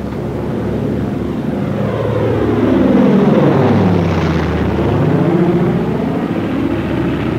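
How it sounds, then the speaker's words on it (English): Douglas A-20 twin-engine attack bomber diving, a loud sustained propeller-engine roar whose pitch sweeps as it swells toward the middle and holds steady, with no voices. "Hold on and I'll show you how she dives."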